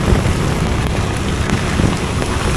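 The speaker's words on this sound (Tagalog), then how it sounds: "lakas ang ulan" Heavy rain pours steadily and loudly, a dense unbroken roar with no voices.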